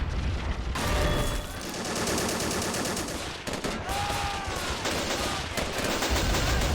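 Battle in Men of War: Assault Squad with toy army men in a garden, dense rattling machine-gun fire and scattered gunshots, loud and continuous with whistling and mechanical sounds mixed in, no talking.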